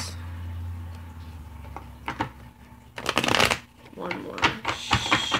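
A deck of tarot cards is shuffled in quick riffling bursts, close and crisp, with a low steady hum underneath.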